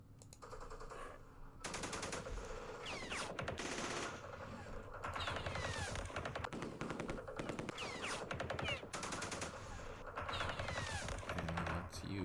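Dense, loud combat fire from Campaign Series Vietnam at the Battle of Dak To, with mortar fire aimed at an enemy position. Rapid overlapping shots and bursts run almost continuously with no voices.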